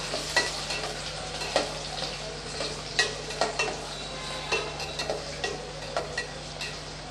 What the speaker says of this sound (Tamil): எல்லாத்தையும் சேர்த்து நல்லா வதக்கி விட்டுக்கலாம்.